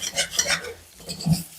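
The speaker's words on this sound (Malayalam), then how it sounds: "ഇത് അതിനെ ഒന്നുകൂടെ നമുക്ക് ഇളക്കി കൊടുക്കാം." A spoon stirs a vegetable mezhukkupuratti stir-fry in a pan, making a few quick scraping, rustling strokes against the metal with a soft clink, close and fairly faint.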